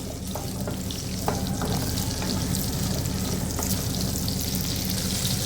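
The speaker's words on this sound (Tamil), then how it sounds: "லைட்டாக ஃப்ரை பண்ணால் போதும்" Shallots frying lightly in a pan for a gravy give a steady close sizzle and crackle, with a few short stirring clicks and no voices.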